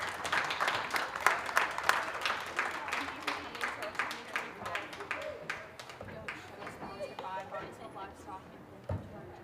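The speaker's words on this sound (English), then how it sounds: "Let's give her another round of applause." Audience applause at a county junior fair goat show, a burst of scattered clapping from a modest crowd in a livestock arena that tapers off toward the end, with a voice speaking beneath it.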